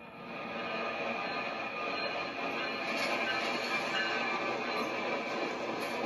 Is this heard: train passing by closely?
yes